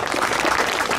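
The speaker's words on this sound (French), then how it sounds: "vous pouvez applaudir également un premier prix" Audience applause at a prize-giving ceremony in Wattrelos, a thick, uniform clatter of many hands sustained at steady loudness for about a second.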